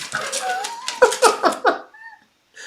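A neighbor's dog outside gives a drawn-out whine, then a quick run of four sharp yips or barks before falling quiet, with a faint tone near the end.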